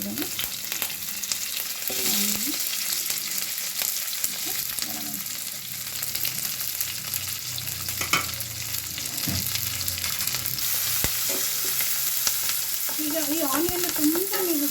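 Garlic and curry leaves fry steadily in hot oil for a tempering that will go into honagonne soppu (Alternanthera sessilis) bassaru. A dense, continuous sizzle runs close and loud throughout, broken by occasional stirring scrapes, with no talking.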